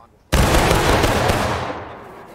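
A musket volley fired in War of Rights at the Dunker Church battle: one sudden, loud crackling burst of many rifles going off together, with a rolling tail that fades slowly, and no voices over it.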